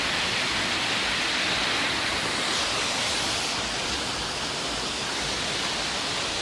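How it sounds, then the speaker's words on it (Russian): A small waterfall in a winter forest, thin streams falling from a fairly high drop, makes a steady, dense rushing hiss that stays loud and unbroken throughout with no voices. "Что вот такой вот водопад."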